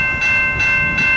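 An Amtrak Wolverine passenger train led by two Amtrak Midwest locomotives rumbles past in Michigan, loud and near, with a sustained tonal hum and regular swells of rail noise.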